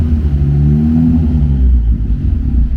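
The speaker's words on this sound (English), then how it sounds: "Hear that turbo?" Turbocharged 600 hp Ford Focus ST engine on a fresh tune, running with a deep, steady low rumble and rising revs close by, with a slightly rough, uneven note throughout.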